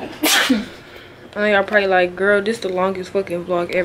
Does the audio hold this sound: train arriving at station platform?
no